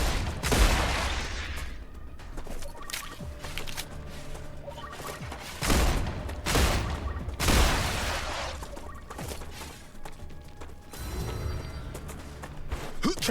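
Hip-fired gun in the sci-fi game StarRupture: several loud, booming shot bursts spaced through a dense bed of game noise and rumbling ambience, close and heavy, no voices.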